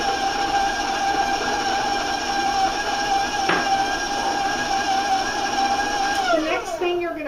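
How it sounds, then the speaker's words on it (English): Steady loud whirring hum of an electric mixer creaming sugar at a raised speed, running continuously, with a slight pitch shift near the end. "I'm going to raise my speed a little bit so I get a little loud."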